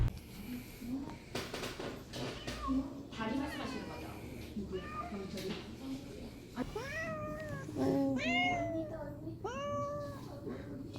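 A three-year-old, 6 kg cat meows several times, rising and falling cries growing louder toward the end, mixed with quiet talk and background rustle.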